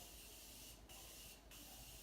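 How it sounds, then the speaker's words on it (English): Two quick, soft spritzes of makeup setting spray misted onto a face, each a brief airy hiss with a pause between, faint and close in an otherwise quiet room. "And then again, I'm going to spray my face."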